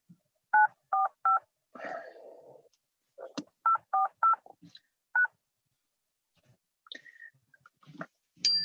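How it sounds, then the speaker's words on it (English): Telephone keypad DTMF tones punched in while dialing into a remote legislative hearing's conference line, two quick bursts of three or four clear beeps each, with an automated phone-system voice prompt in between and more prompting after. "trying to dial in on my phone"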